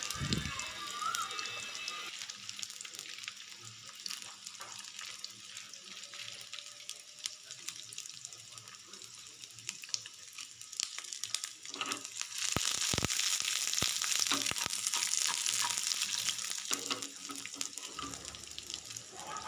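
Garlic, ginger and two or three red chilies roasting in oil in a pan, a crackling, spattering sizzle with dense clicks and pops that grows louder and busier toward the middle and end.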